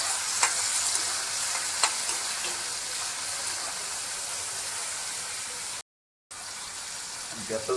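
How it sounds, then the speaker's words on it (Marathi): Tomatoes dropped into hot tempering oil hiss in a steady, close sizzle with a few crackles and stirring scrapes, cut by a brief moment of silence before the frying resumes. "फोडणीतच टोमॅटो टाकले."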